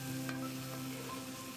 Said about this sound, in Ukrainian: На ту ж пательню додаю олію та вкидаю туди цибульку і смажу до гарного золотистого кольору.